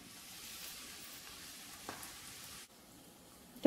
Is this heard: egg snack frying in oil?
yes